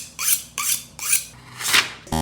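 An unsharpened kitchen knife slices through paper in four quick, crisp rasping strokes at an even rhythm, close up, ending with a brief mechanical click.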